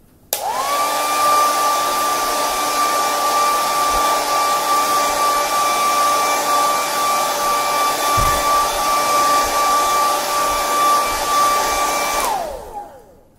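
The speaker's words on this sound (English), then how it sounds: "Trying to get the right hair dryer here." A hair dryer blows air to dry a watercolor painting, a loud steady whine that starts abruptly, holds constant for about eleven seconds, then winds down and stops.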